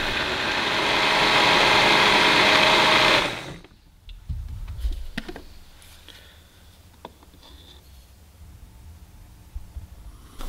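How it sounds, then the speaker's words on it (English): A loud blender whirs at full speed for a few seconds blending soybeans and water, then cuts off, followed by a few clunks and quiet handling noises. "then we're going to blend it until it is nice and smooth."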